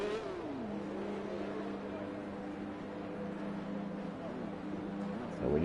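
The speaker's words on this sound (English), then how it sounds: "So the cars come round onto the grid now." F1 race cars in F1 2021 roll onto the grid at Bahrain, a steady droning engine note that holds one pitch, with a short rise at the start and a louder swell at the end.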